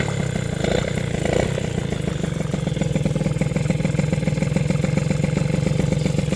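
A small 49.1 cc moped engine with a Fox cylinder idles steadily up close at about 1200-1300 rpm, its rapid, even putter holding a constant rhythm with a slight rattle throughout.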